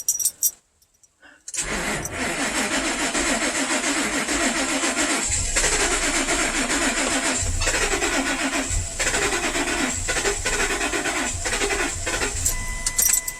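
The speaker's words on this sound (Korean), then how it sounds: "자, 시동 한번 걸어보겠습니다." A car engine with gasoline in its engine oil cranks continuously for over ten seconds, the starter whirring in repeated pulses without the engine catching.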